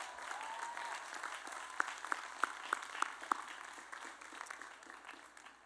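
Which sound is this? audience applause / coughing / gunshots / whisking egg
audience applause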